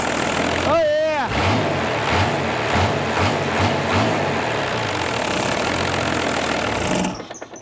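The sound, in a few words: Chrysler Mitsubishi 6DS70 diesel engine running on test fire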